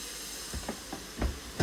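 Meat sautés quietly in a pan, a faint sizzle under a few soft scraping stirs that grow a little louder toward the end, close by and without speech.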